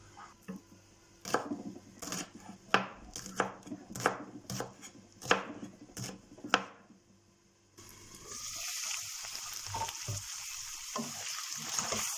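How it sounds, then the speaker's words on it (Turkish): Thin green peppers being chopped finely with a knife, about a dozen crisp rhythmic knocks on a board, followed by a sudden sizzle of frying for the last few seconds. "Biberlerimizi de ince ince doğruyoruz."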